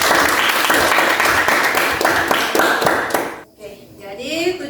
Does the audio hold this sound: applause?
yes